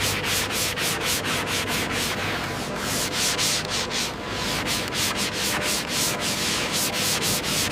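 Rhythmic back-and-forth sanding of gray spot filler on the metal surface of a World War II M4 tank, a steady gritty rasp repeating in quick even strokes, close and continuous with no voices.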